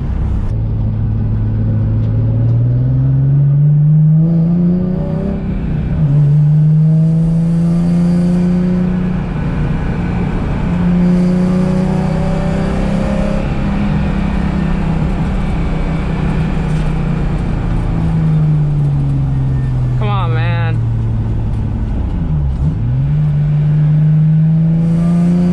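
A Nissan 350Z fitted with new coilovers drives along, its engine droning loudly and close with repeated rises and falls in pitch as it accelerates and shifts, over constant road rumble.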